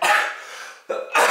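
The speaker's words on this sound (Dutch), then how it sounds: "Als ik ga lachen moet ik hoesten" A person coughs in two or three harsh, breathy bursts close to the microphone, loud with a brief pause between them.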